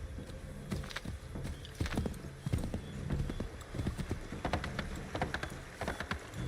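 Horse hooves clip-clop steadily in Assassin's Creed III, an irregular rhythm of close, moderately loud hoofbeats over a soft ambient background.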